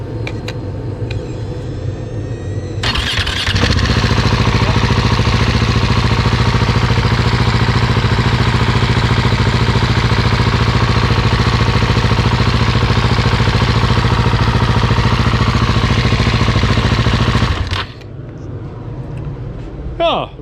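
Husqvarna 701 Enduro Euro5 single-cylinder motorcycle engine, freshly overhauled after engine damage, starts and settles into a steady, loud, close idle with an even rumble lasting about fifteen seconds before cutting off.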